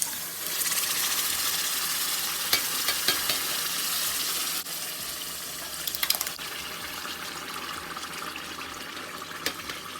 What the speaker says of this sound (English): Some crushed tomatoes. We're going to add in 2 28-ounce cans.